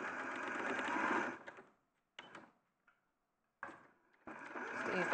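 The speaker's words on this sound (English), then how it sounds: "So now you're sewing across that line?" A domestic sewing machine stitches across a seam to box a corner, loud close bursts of rapid stitching broken by pauses, with a short restart and a final sustained run.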